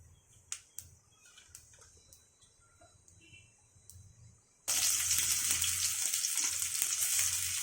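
Fennel seeds hit hot oil for tempering a soya meal maker gravy. After a few seconds of quiet clinks, a loud, steady crackling sizzle erupts close by and holds to the end.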